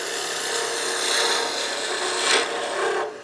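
Woodturning gouge cutting a spinning workpiece on a lathe, riding the bevel as the handle rises, giving a steady broadband rasping scrape that swells and eases over a few seconds, close and continuous with no talking.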